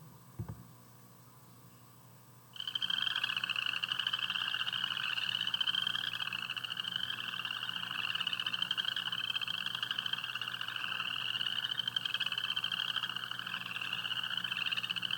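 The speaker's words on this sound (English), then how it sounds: "Okay, boreal chorus frog. This is one of the first to sing in the spring." A spring chorus of boreal chorus frogs starts suddenly and continues steadily, a dense layer of rising, ratchety trills repeating close by with no talking.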